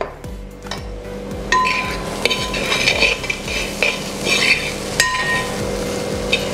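Fish egg thoran being stirred in a pan with a spoonful of raw coconut oil: continuous close sizzling crackle with repeated metallic scrapes and clinks of the spoon against the pan, loud and busy throughout.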